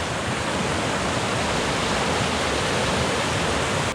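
High, rushing creek water on the Virginia Creeper Trail, a steady broadband roar like a swollen stream or small waterfall, loud and close throughout with no other sounds.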